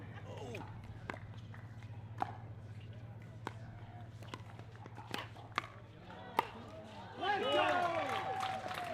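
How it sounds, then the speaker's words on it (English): Pickleball championship-court match: sharp paddle pops and light footsteps over a steady low hum, then a crowd bursts into loud cheering and whistles for the final couple of seconds. "And you hear the crowd go wild."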